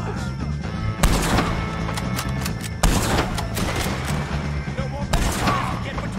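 Gunfire in Red Dead Redemption 2 comes as a steady loud barrage of shots, with sharp heavier blasts breaking in about every two seconds.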